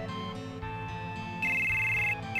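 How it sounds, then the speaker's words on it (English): A phone ringing in the video game Final Fantasy VII, a synthesized melodic ring tone layered over background game music, with a brighter sustained tone rising in the middle, moderately loud and steady. "Oh, sorry, someone's on the phone."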